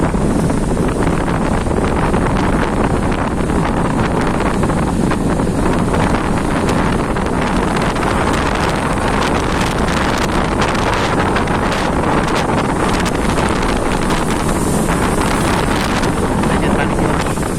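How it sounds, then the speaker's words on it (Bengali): Strong cyclone wind buffets the microphone continuously over the roar of rough Bay of Bengal waves spilling onto the road, loud and unbroken throughout. "দেখেন সাগর কত উত্তাল"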